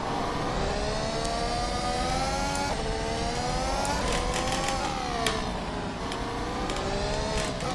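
A Ferrari race car in the rFactor 2 driving simulator at the Targa Florio road circuit, its engine droning loud and close, pitch rising and falling through gear changes and short bursts of acceleration between tight corners.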